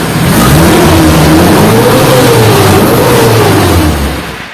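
A used 2009 Suzuki Carry Futura pickup is revved to check the exhaust, its engine roaring loud and close with a rising, wavering pitch that holds for about four seconds before dropping away.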